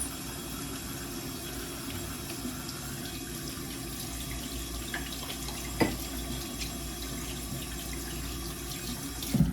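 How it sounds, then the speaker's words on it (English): Hands are washed under a running tap at a sink before handling contact lenses, a steady close rush of water with faint splashes and a couple of brief knocks, no speech. "for contacts, always want to wash your hands"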